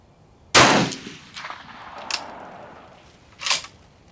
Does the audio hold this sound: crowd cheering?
no